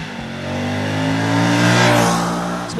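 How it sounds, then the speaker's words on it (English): A 2023 Moto Guzzi V100 Mandello's 1048cc 90-degree V-twin revs up loud and close, a deep throbbing engine note swelling steadily over a few seconds and easing slightly at the end. "It's a 1048cc, of course, inverse, 90 degree V-twin, and it's got so much torque to play with."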